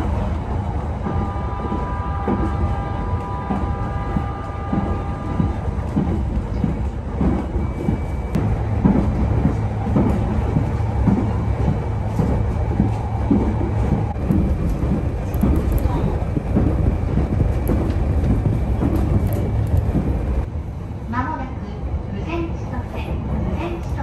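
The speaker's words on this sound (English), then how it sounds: "the running train sounds are called Gatan Goten in Japanese." A Yamagata Shinkansen train runs through heavy snow in Japan, its wheels giving a steady rumbling rhythm of rail joints inside the carriage, with a chime and a spoken announcement over it before the sound eases near the end.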